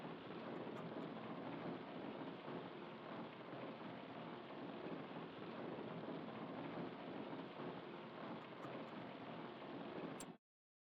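Hail and a thunderstorm in Farming Simulator 25: a steady, dense roar of heavy rain and hail pounding surfaces with low rumbling thunder underneath, loud and continuous for about ten seconds before cutting off abruptly.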